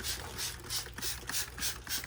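Roof wash being sprayed from a hand spray bottle onto a dirty door: a steady run of quick, evenly spaced trigger pumps with bright hissing bursts, close and fairly loud over a low machine hum, without speech.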